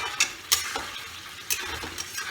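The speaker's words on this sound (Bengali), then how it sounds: "অলরেডি দেখুন চিকেন ফাটতে আরম্ভ করেছে এর মধ্যেই" Chicken pieces marinated in yogurt sizzle steadily in a hot pan for biryani, with a few louder crackles and pops over the constant frying hiss, close up and without talk.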